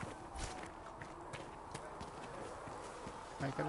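Rhythmic clip-clop of horse hooves at a steady trot in Dragon Age: Inquisition, fairly quiet, with faint game ambience and a brief voice near the end.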